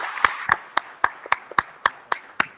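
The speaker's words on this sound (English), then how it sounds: "let's give the panelists a really big applause" Sparse, slow clapping at a business summit in London after a panel discussion, about ten evenly spaced claps from one or two pairs of hands, crisp and close with silence between them.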